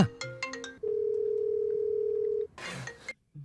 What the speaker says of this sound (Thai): โทรศัพท์มา